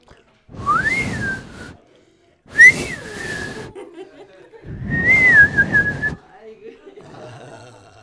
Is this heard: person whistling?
yes